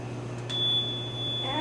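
A small speaker hooked up to a battery emits a single steady, piercing alarm-like tone that starts after a brief pause and holds unbroken to the end, over a low hum.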